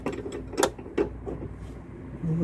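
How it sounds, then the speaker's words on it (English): A car jack is pumped to raise the front strut of a Toyota Yaris Mk2 XP90, giving a few sharp mechanical clicks and ratcheting knocks close by, then a quieter metallic hum. "I'm just giving that one more little pump on the jacks to make sure it's right up in its correct place"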